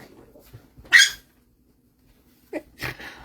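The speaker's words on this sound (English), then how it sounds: "I told you were going to get some puppy noises tonight." Puppies scuffle and make short snorting, sneezing-like noises in bursts separated by a stretch of quiet, close by.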